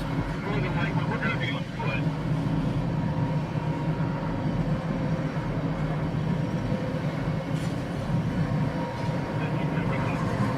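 Freight train cars, including an empty Pullman Standard hopper with roller bearings, roll past in a continuous, loud rumble and rattle that lasts throughout, with voices talking over the noise.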